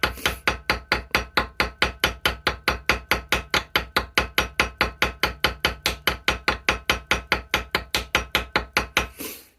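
A hammer tapping steadily on a brass part of a Victorinox knife, about forty crisp, evenly spaced metallic taps close up, each one ringing briefly before the next.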